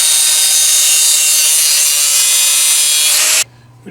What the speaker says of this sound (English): We get the die grinder in there now.